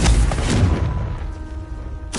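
A Confringo blasting spell explodes in Hogwarts Legacy, a loud booming burst at the start that fades into a rumbling tail, with a second sharp blast arriving near the end.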